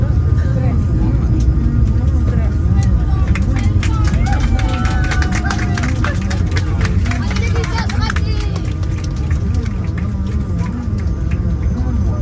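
Passengers on a Ryanair flight give a round of applause after a hard landing at Dublin. The clapping comes through dense, loud cabin noise and engine roar, with babble of voices around it.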